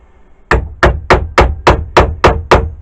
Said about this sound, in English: I'm going to hit that tap.